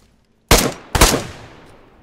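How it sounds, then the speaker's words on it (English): Two sharp gunshots ring out in the DayZ video game during a PvP firefight, the second about half a second after the first, each loud and close with a decaying echo tail and no talk over them. "I heard the shots from cover."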